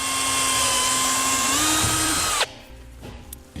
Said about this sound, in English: I'm going to use a 5/32 bit. I'm going to get that drilled out.